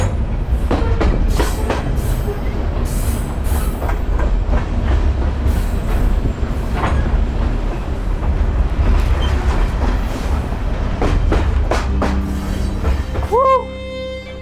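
A freight train rolls through the Mexican desert in heavy heat, a loud, constant rumble with rattling cars and repeated clacks, then a shrill wheel squeal near the end as the noise drops slightly.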